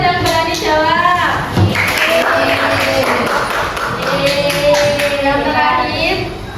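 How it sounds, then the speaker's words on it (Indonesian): A school class claps for a student who answered, scattered hand claps mixed with children's voices and chatter, fairly close and lively, with talk running through much of the stretch. "Tepuk tangan dulu buat yang berani jawab."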